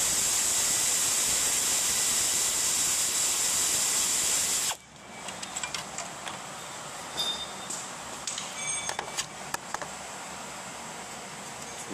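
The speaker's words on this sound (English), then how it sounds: "Loosen it with my air ratchet." Air ratchet loosening the timing belt adjusting bolt on a 2004 Toyota Camry Solara 3.3L V6, starting as a loud continuous pneumatic whir and hiss for several seconds, then stopping abruptly, followed by scattered faint clicks and metallic taps.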